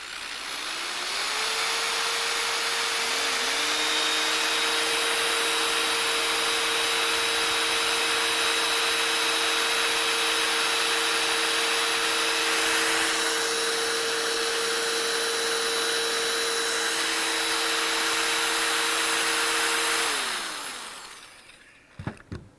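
Two power drills, one a Black & Decker, running off a portable solar generator: a loud, steady whirring motor drone that rises, holds for about twenty seconds with a second drill joining in, then winds down, followed by a few clicks.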